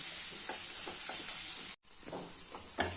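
A turmeric, cumin and tomato masala is sautéed over a low gas flame with a soft, steady sizzle. Periodic scraping strokes of a spoon stir through it, with a brief gap before the stirring resumes.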